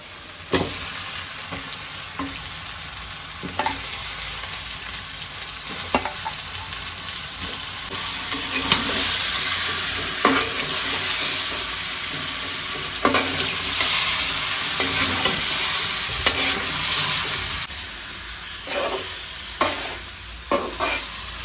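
Ground spice paste with chili powder, salt and a splash of water sizzling steadily in a pan while a spatula scrapes and clacks against the metal at irregular intervals, close and continuous with no voices.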